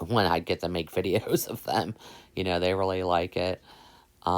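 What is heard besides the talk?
None of the usual background noises is heard.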